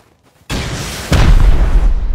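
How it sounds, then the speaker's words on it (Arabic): A rocket explodes in the video game Rust: after brief quiet, a sudden loud boom bursts in and a second heavier blast follows, rumbling on to the end. "اخر صاروخ"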